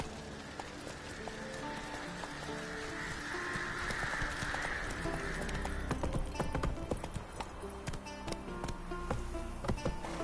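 Horse hooves clip-clop at a steady trotting pace in the Witcher video game, moderately loud and constant over a faint high buzzing background that fades midway.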